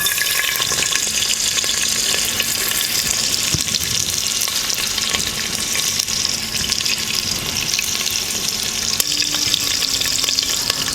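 Free-range village chicken fries with onion in oil for a Maharashtrian dish, a steady, loud sizzle crackling without pause throughout, with occasional stirring and clinks.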